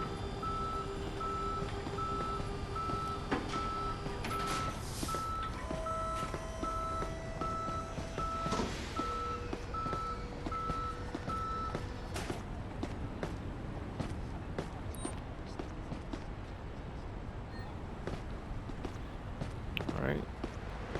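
Tow truck reversing beeps in the police patrol game Police Simulator: Patrol Officers, a steady series of evenly spaced electronic beeps over a rumbling engine and street noise, with someone talking over them.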